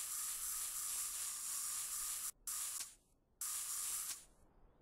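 Spray paint can in the game Workshop Simulator hisses in sustained bursts, a bright steady spray broken by brief pauses, close and alone without voices.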